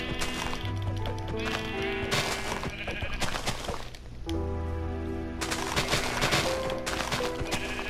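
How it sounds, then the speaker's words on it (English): Sheep bleats in Minecraft, a few short cries layered over steady melodic background tones with no voices. "Don't worry, I can take on this sheep."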